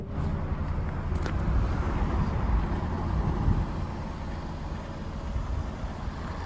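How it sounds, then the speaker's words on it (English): A 2006 Mazda MX-5 engine idles steadily and smoothly, a continuous low rumble at even loudness with no talking. "As you can hear, the engine runs nice and smooth"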